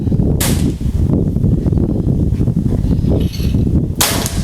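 An FX Mahameru PCP air rifle fires Hercules pellets outdoors in a fairly strong wind. Two sharp, loud cracks come about three and a half seconds apart over a steady rush of background noise.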